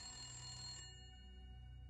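A telephone rings incessantly, a single steady electronic ringtone tone sounding briefly and faintly, alone without voices.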